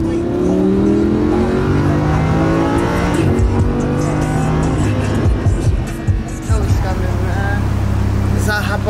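A Lamborghini engine roaring and revving close by, with rising and falling tones and a deep rumble throughout, while people talk over it.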